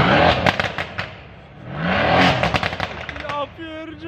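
A modified Mercedes-AMG car engine roars loudly at close range, revving in two big surges with sharp crackling pops from the exhaust, then dropping to lower throbbing revs at the end.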